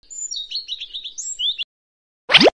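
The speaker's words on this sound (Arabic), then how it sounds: "زقزقة العصفور" A sparrow chirps in a quick, busy run of sharp, close twitters lasting over a second, then falls quiet before a short, loud burst at the end.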